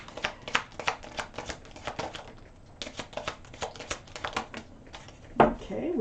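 Tarot cards being drawn and flicked from a deck: quick, close, papery snaps and riffles in irregular bursts with a short pause midway, ending in a louder handling sound.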